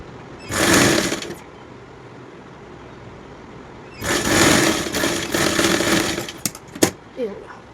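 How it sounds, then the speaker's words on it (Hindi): A sewing machine stitches a coat for a two-to-three-year-old child in two close bursts, a short one and then a longer, rattling run, separated by a quiet pause and ending with a few sharp clicks. "सिलाई।"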